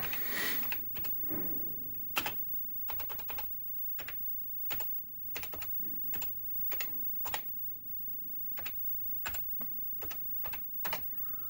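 Keys clacking on an Amiga 500 computer keyboard, a run of separate, fairly close keystrokes at an uneven typing pace with short pauses, and no talking.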